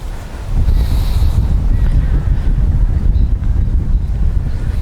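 Strong outdoor wind buffets the microphone in a steady, loud low rumble, joined by a brief faint high whistle near the start.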